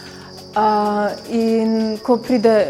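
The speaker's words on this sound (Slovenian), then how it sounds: "V njih je okoli 300 do 400 čričkov vrste Acheta domesticus oziroma hišni čriček." House crickets (Acheta domesticus), several hundred kept in terraria within a gallery art installation, chirp in a steady, continuous high trill that runs underneath a person speaking.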